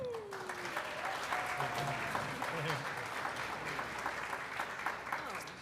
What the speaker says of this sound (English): Please thank and keep your applause for the ensemble, Miranda, Phoebe, Caleb and Marty.